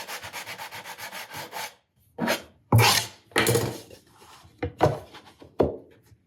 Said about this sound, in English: So I just barely have this tiny little sliver of MDF and veneer to sand.